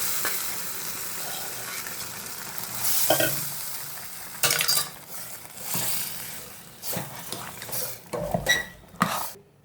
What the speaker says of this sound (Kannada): ಕಟ್ ಮಾಡಿರೋ ಅರ್ಧ ಆನಿಯನ್. ಇದು ಸ್ವಲ್ಪ ಫ್ರೈ ಮಾಡ್ಕೊಳ್ಳೋಣ